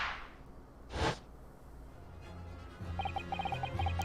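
A Venus special firework from the Great Ace Attorney video game goes off with one sharp, loud gunshot-like crack, followed by quieter game sounds and a rhythmic chiming beep pattern.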